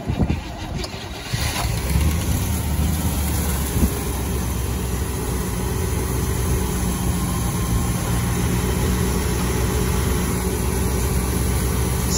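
A 1958 Chevrolet Bel Air with a 348 big block V8 cranks and fires, then settles into a loud, steady, rumbling idle close by for the rest of the stretch.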